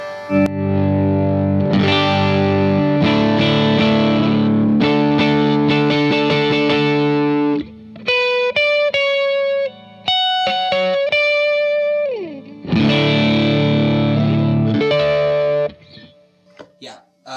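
Electric guitar through a Paramount overdrive pedal, loud chugging chords and sustained notes, then clean-toned single-note runs before distorted chords return.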